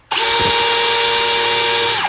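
A Makita Gen 4 cordless power tool spins up abruptly and runs at a steady, loud, close motor whine for about two seconds before cutting off.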